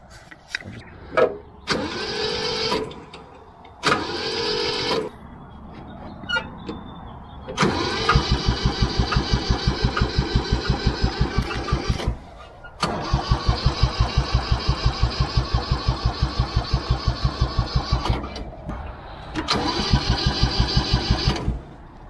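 A crashed Kubota mini tractor's diesel engine cranks in several short bursts of starter whine, then catches and runs with a rapid, loud, rhythmic knock that stops and restarts, close by with no talking.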